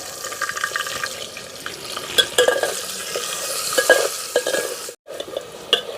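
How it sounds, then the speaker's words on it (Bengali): Potatoes frying in hot oil for a chicken curry, a close crackling sizzle with sharp spits and pops, briefly cutting out near the end. "এদিকে তেলটা গরম হয়ে গেছে আলুগুলো ভেজে নেবো"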